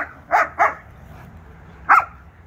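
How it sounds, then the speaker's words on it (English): A German Shepherd and a Husky wrestle, giving three short, sharp barks close by: two in quick succession, then a single one after a pause, over a quiet background. "Oh, so barky."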